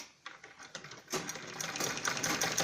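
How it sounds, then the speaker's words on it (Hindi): Sewing machine stitching a balloon salwar: a few hesitant taps, then a fast, steady mechanical chatter running close and fairly loud until the end. "इसके ऊपर ऐसे सिलाई लगाएंगे हम दोनों तरफ को"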